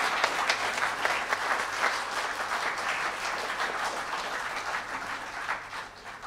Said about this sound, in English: I think she deserves